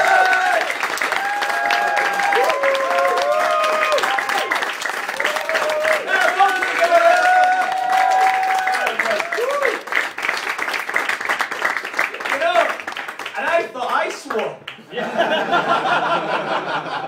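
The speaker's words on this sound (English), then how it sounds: "Give him another round of applause." Audience at a first stand-up comedy gig applauding after the set ends, sustained clapping and cheering with some chuckles, fading briefly near the end before picking up again, with voices mixed in.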